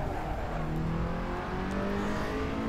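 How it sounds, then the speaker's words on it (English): A KTM X-Bow engine in Assetto Corsa held at high revs against the limiter, a dense, steady roar with a slightly wavering pitch, loud and continuous with no talk. "Probably shouldn't rev the snot out of it if revving the snot out of it is hitting the limiter."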